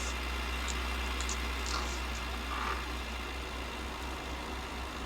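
Vintage 1966 farm tractor engine running steadily beside a muck spreader, a continuous low idling rumble with no breaks, close and fairly loud throughout.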